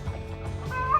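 Poultry call inside a chicken shed, a short burst of throaty gobbling clucks, close and fairly loud, lasting about a second.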